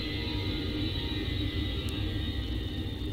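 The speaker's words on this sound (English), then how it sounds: "Yeah, loud CFM engines." Boeing 737-800 CFM jet engines in the X-Plane 11 simulator, a constant dense rumbling roar with a steady whine on top, loud and unbroken with no talk.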